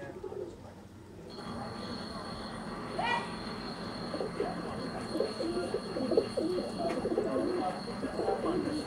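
Pigeons kept for kabootar bazi in Sialkot, soft cooing and bird calls amid a busy outdoor background rumble, with a brief flutter and faint voices mixed in.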